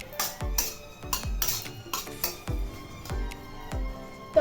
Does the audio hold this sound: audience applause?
no